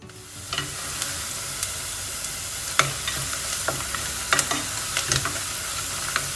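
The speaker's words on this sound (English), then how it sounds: "now we add in our onion and green chilli. So we are going to fry this well." Onion and green chilli sizzle steadily in a hot pan, a close, even frying hiss punctuated by scattered clicks and scrapes of stirring.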